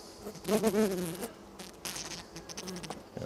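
Honeybees buzzing inside an open beehive, a microphone lowered among the frames; a dense, wavering hum swells and fades in close, loud bursts with rustling in between.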